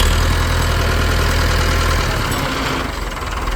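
A Massey Ferguson tractor engine idles steadily up close just after a new starter motor was fitted, a continuous low throbbing rumble with a slight knock that eases a little near the end.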